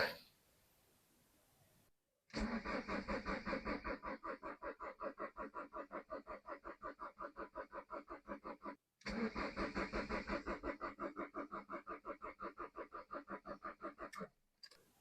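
A car left sitting in a garage for nine years cranks repeatedly without firing, the starter producing two long runs of fast, even pulsing close by, separated by a brief pause, after a short stretch of quiet.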